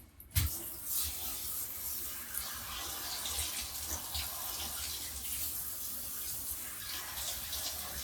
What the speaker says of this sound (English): Here, turn the water back on.